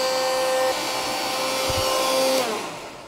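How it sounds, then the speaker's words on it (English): Vacuum cleaner running as a load on a compact LiFePO4 battery, a loud steady motor whine with a tonal hum that shifts pitch midway and then begins to wind down near the end. "I've got a vacuum here so we can get more current"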